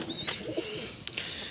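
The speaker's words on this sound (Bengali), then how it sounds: "আমার নতুন পাঞ্জাবি পায়রার বাচ্চা ফুটলো আজকে" Soft pigeon coos and faint chirps come from a Punjabi pigeon nest with newly hatched chicks and a brooding hen, quiet and brief against low background noise.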